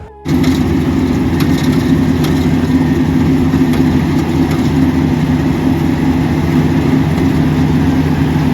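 A rice harvester's engine drones loud and unbroken while it cuts paddy in a wet, muddy field, holding a steady low hum from a sudden start to the end.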